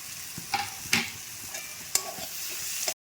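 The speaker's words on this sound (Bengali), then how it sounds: "এবারে সেই আগের থেকে ভেজে রাখা আলুগুলো দিয়ে দিচ্ছি" Fried potatoes are stirred into a sizzling pan of vegetarian ridge gourd and mung dal curry: a steady close frying hiss broken by a few sharp scraping clanks of the spoon, with no voices.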